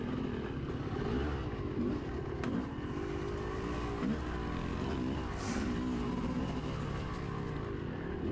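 A pit bike revving and riding around a dirt race track, its small engine buzzing steadily at middle distance with a continuous droning whine that rises and falls slightly.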